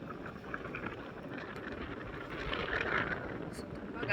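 Strong wind sweeps across a cruise boat in Halong Bay, making a steady, fairly soft broadband rush that swells slightly toward the end, with faint voices in the background.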